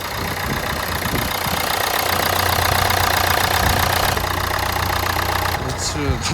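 A car engine runs loud and rough with a steady, uneven rumble and rattle, close by, continuing throughout.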